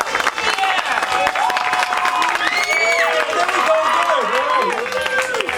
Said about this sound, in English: Can I get a round of applause for the youth stage?